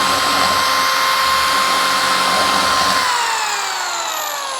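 Router bit spinning in a drill and cutting into knotty wood, a loud steady high-pitched whine for about three seconds that then drops in pitch as the drill slows and winds down, close up.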